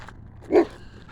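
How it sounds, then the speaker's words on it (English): A single short, sharp dog bark rings out outdoors, moderately near, over a quiet background. "Can you walk by there without the dog screaming at you?"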